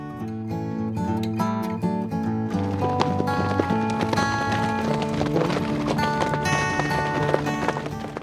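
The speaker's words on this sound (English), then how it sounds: "Each morning, the horses are brought from the pasture to the stables to be saddled and readied for the day's various rides." Horses being led from pasture to the stables at a dude ranch in Wickenburg, Arizona, hooves clip-clopping steadily throughout under music.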